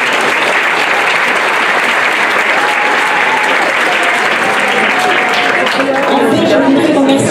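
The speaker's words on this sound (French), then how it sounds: "Et vous pouvez encore les applaudir." Audience applauding at a village festival in Saint-Étienne-de-Tinée, steady sustained clapping from a crowd throughout, with some voices and talk mixed in underneath.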